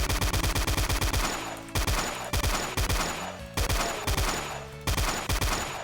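Chain gun in the Doom video game firing in rapid repeated bursts, each a fast string of loud, sharp shots separated by brief pauses, with no voices.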